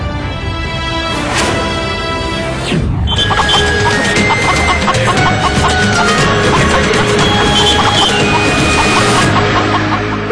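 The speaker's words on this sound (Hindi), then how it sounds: "तो ये है कड़कनाथ मुर्गा" Kadaknath chickens clucking in a rural Madhya Pradesh village, repeated short clucks and calls over a busy backdrop with clinks and knocks, fairly close and continuous.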